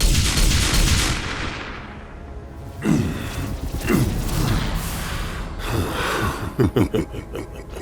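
Gunshots in a video game ring out amid a loud, dense mix of game effects and rumble, with a few sharp cracks and a quick burst of shots near the end.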